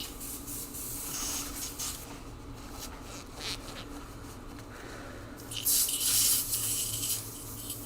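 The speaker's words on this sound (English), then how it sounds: "We'll use another airbrush for the next color." Airbrush spraying paint onto an ammo box lid, soft hissing bursts of varying length that swell into a louder, longer spray near the end, close by with no talking.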